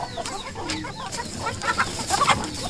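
Chickens clucking and scrambling as they are let out in the morning on a farm, a busy, continuous flock chatter with sharper calls rising toward the end, no talking over it.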